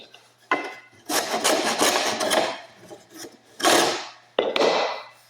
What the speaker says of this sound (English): Trim that till it's, put a slight back cut on it.